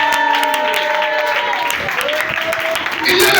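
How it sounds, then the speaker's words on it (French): A church congregation breaks into applause and cheering, with a steady, dense wash of clapping running throughout, sustained tones like music or singing underneath, and a louder surge near the end. "Donnez l'acclamation ce matin."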